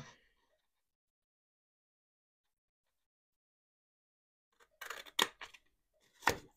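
Scissors cutting paper ephemera into labels, a few close crisp snips in a quick cluster followed by one more cut after a pause, otherwise near silence.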